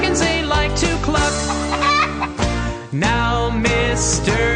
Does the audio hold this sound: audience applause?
no